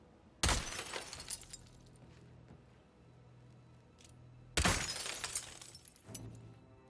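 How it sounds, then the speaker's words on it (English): Two loud, sharp bursts of shattering glass, each followed by a tinkling scatter of shards, ring out about four seconds apart in the stealth game Hitman III, over a low steady background hum with no talking. "asking if I could just break the glass"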